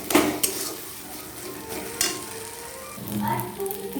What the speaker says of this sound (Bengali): এবার এই আলুটা দিয়ে দেবো ওর মধ্যে, দিয়ে ভালো করে একটু নাড়াচাড়া করে নেব